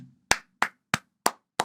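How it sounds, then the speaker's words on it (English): Five sharp, close hand claps ring out at an even, steady rhythm, each one distinct, with nothing else heard between them. "Round of applause."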